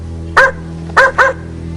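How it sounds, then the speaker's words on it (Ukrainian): A toy dog barking, three sharp electronic yaps, one then a quick pair, loud and close over a low steady hum. "Собака."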